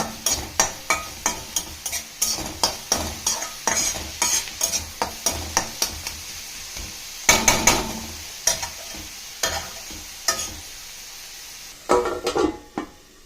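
Tomato, onion and crushed garlic sautéing in a pan for tomato onion thokku, loud close sizzling broken by a rapid series of sharp scraping stirs, spoon strokes coming in quick bursts with short pauses between.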